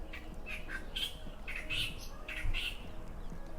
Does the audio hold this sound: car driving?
no